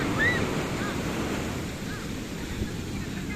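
Ocean surf washes steadily onto the shore, a constant broad roar with wind buffeting the microphone, and a few faint bird calls drift over the top.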